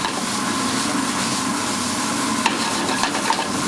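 Scallops cook in a hot pan at a New Orleans restaurant, a close, dense, even sizzle with a few brief pops toward the end, heard alone without talking.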